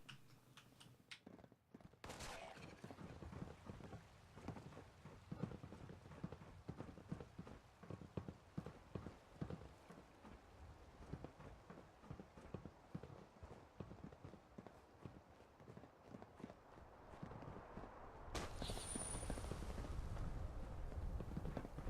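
Ghouls approach in a post-apocalyptic video game with a long run of quick, faint pattering footsteps, rapid and uneven, that grow slightly louder toward the end.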